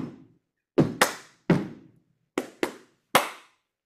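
Foot stomps and hand claps beaten out in a rhythm, about seven sharp hits in a loose pattern of single beats and quick pairs, close and dry, with silence between them and no talking.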